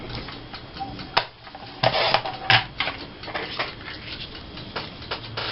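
Paper being trimmed for scrapbooking, heard as a few close, sharp cutting and sliding strokes in quick bursts with rustling between them, no voices.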